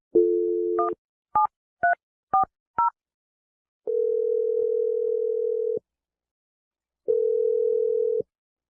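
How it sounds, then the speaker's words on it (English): A telephone line gives a steady dial tone, then a quick run of five touch-tone beeps as a number is keyed in, followed by two long ringback tones with a pause between them. There is no talk. "Let's dial the number right now."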